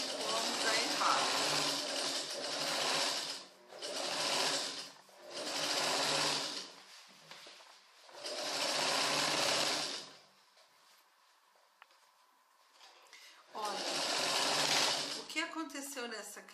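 A sewing machine stitches a pair of trousers in several loud, close bursts of fast whirring separated by short pauses, with a quieter stretch in the middle before a final run.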